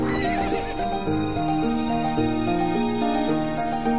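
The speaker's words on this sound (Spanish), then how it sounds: "Me pregunto si Nick ya se habrá bajado del caballo" A horse in the video game To the Moon whinnies over steady clip-clopping hooves, set against a continuous musical backdrop that stays loud throughout.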